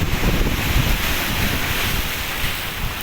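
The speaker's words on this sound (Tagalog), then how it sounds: "pag humupa yung alon, ang laki ng alon" Loud, continuous roar of large crashing surf at a coastal fishing spot in Maragondon, Philippines, with heavy wind buffeting the microphone, no voices, a dense wash of noise throughout.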